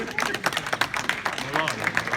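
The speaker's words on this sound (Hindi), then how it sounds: "आप अपने लिए भी तालियां बजा लें" An audience at a poetry gathering claps steadily, a dense patter of many hands close by, with voices mixed in beneath the applause.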